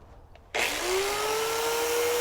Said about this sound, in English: we're gonna move to the electrical power tools and see if that works any better